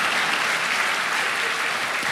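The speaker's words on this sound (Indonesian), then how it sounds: "ya tepuk tangan" Congregation applause fills a church service, a steady dense wash of many hands clapping at close range with no pauses for the full duration.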